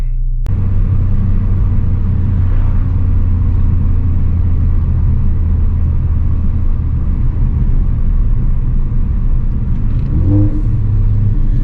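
A car fitted with a COBB rear motor mount drives along with a loud, steady engine drone and road rumble, holding a constant level throughout with no one speaking.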